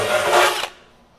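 A 3/8 Hercules cobalt drill bit grinds through sheet metal in a harsh, loud rasp lasting about half a second, then stops abruptly, leaving quiet room noise.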